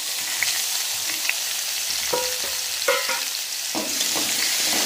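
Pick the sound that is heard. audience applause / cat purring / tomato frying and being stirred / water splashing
tomato frying and being stirred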